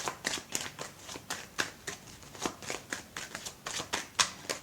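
Quick repeated riffling of a card deck being shuffled for a card reading, crisp flutters coming in a steady run, close and fairly quiet, alone.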